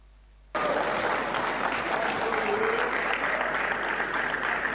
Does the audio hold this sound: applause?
yes